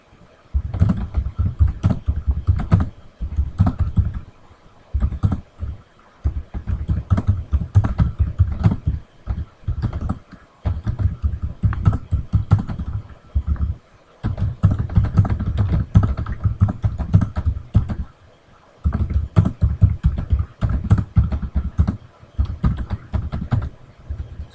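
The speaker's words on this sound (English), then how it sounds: "So after I've typed my information here," Continuous typing on a computer keyboard while entering a message in a web form, with rapid clattering keystroke bursts separated by short pauses, close and fairly loud throughout.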